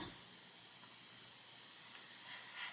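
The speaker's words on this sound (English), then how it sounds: "So we'll just spray this area in here." Airbrush spraying black paint, Tamiya XF1 mixed with X20A thinner, onto a scale model, a steady close hiss running unbroken throughout with no talking.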